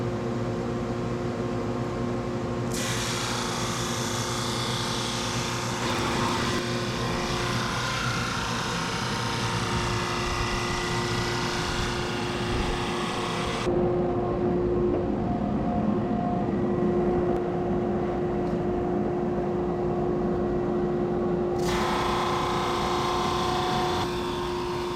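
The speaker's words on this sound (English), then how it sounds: "I will run this through the drum sander a number of times to kind of clean up either the top or the bottom" A drum sander flattening an epoxy table, a steady loud machine hum with a constant motor whine, and a rougher grinding sanding roar as the workpiece passes through during two long stretches.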